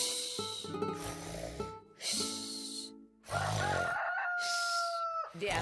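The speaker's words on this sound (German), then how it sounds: "Der Hahn hat gekräht" A cartoon rooster crowing in a morning scene, several loud, drawn-out calls in separate bursts with snorting and snoring-like noises between them, close and clear with no talk.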